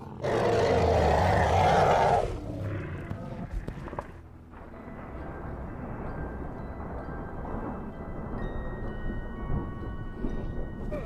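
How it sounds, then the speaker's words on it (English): Thunder roars loud and close at the start of a gathering storm, then fades into a long, steady rumbling wash of rain and wind with no voices. "A storm is brewing."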